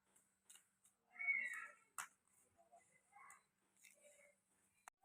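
A domestic village cat meows a few times before a bath, short soft cries mixed with faint clicks and rustling in a quiet room, with a voice talking briefly.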